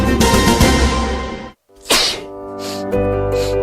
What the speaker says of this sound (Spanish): Al estornudar y toser, expulsamos partículas de saliva con alta carga viral